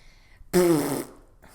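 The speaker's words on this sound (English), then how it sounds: "Sorry for that mouth fart" A single blurted mouth fart, a buzzing lip raspberry about half a second long, loud and close in an otherwise quiet room.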